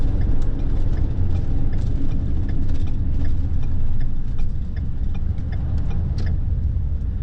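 A car driving and making a turn on arrival at an RV stop, a steady loud low engine and road rumble throughout, close and without talk.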